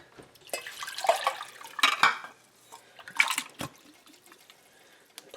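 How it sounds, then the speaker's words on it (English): Extra virgin olive oil poured into a skillet, heard as a few soft wet splashes and trickles in bursts over a quiet kitchen background, with light clatter between pours. "We're going to put in a little bit of extra virgin olive oil"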